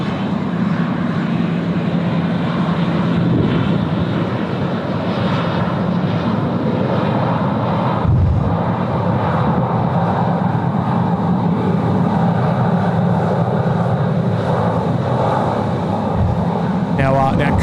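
A Pelican airliner arrives at Sydney Airport on runway 16 right, a steady broad roar of aircraft engines holding loud and close throughout, with a brief low thump near the middle and another near the end, and no talk on top.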